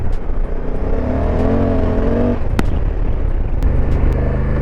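A 2024 Honda Africa Twin adventure motorcycle accelerates hard on the open road, its engine note rising steadily beneath strong, continuous wind rush.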